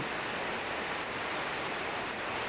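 Steady night rain in Paruliya Union, Kashiani, Gopalganj, a dense unbroken hiss of falling drops, loud and even all the way through with no voices.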